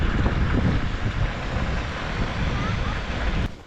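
A newly finished irrigation line is turned on and water sprays out of it as a steady, loud, broadband hiss. The rush continues for several seconds, then cuts off abruptly near the end.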